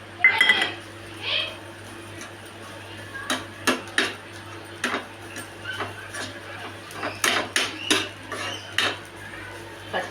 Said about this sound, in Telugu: పచ్చి కొబ్బరి కొంచెం బ్రౌన్ కలర్ అయ్యేంత వరకు కలుపుకోవాలి.